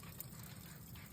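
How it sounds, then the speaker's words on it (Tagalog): Tap water runs from a faucet near the lavatory of a beach cottage, a steady, fairly quiet trickling hiss that fills the short moment with no voices. "Tingnan natin kung gumagana yung gripo."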